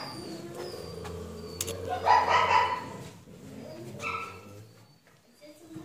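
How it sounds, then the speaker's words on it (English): At a shelter in an old military complex, a husky barks and whimpers in short bursts, close by and mixed with other dog sounds, while a person talks over it. "Look at the beautiful husky."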